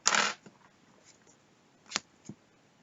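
A deck of playing cards is shuffled for the Pathfinder Adventure Card Game, with a loud riffle at the start followed by a few softer taps and snaps of cards being squared, close by and without talk.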